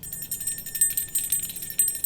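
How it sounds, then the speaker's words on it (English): Small bells jingle in a gentle, quick, continuous jangle, fairly soft and close, with no talk. "hears a gentle jingle jangle sound"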